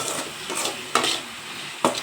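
Brain fry sizzling in a pan as a utensil stirs it, with two sharp scraping clinks of metal against the pan over a steady frying hiss.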